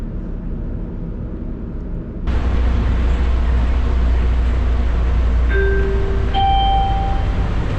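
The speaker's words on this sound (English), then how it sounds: "Please hold on. The train is approaching Terminal B." A steady rumbling hum rises abruptly as an airport people-mover train approaches Terminal B, with a few brief tonal beeps and whines over the continuous rolling noise.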